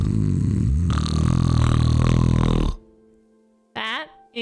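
A voice imitates a giant man snoring after he flops onto his back in bed: one long, loud, buzzing rasp, a near-silent pause, then a shorter gurgling snort starting up again.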